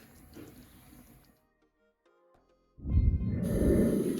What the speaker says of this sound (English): So to a clean pot, I'm just gonna go in with about 4 to 6 cups of water.